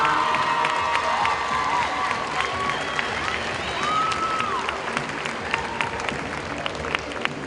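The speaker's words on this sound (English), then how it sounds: "Some light applause" Light applause and scattered cheers from a crowd at a junior roller derby exhibition, steady clapping that carries over a lively arena background with a few shouts.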